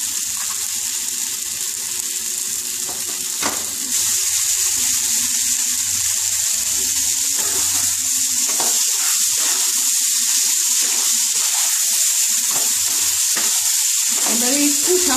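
Spices fry in a pan for a potato and pointed gourd vegetable curry, giving a steady, loud sizzle throughout with scraping stirring strokes and small clatters.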